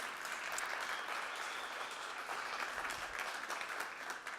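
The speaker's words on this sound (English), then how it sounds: "make applause." Conference audience at a Startup Grind event in Barcelona breaks into steady, full applause, a dense roomful of clapping held at an even level throughout.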